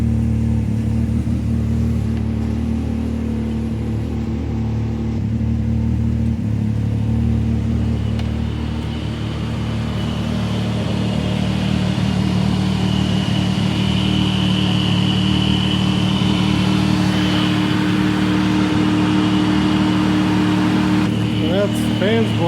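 A Can-Am X3 side-by-side engine warms up in a garage, a steady close rumbling hum that holds throughout with a faint rise toward the end.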